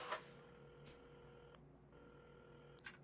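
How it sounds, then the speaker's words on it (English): Phone being dialed in the video game Assemble with Care, heard as a few steady electronic dial tones in sequence, with short gaps and soft clicks between them, fairly quiet and alone. "at the counter, Carmen had started dialing the phone"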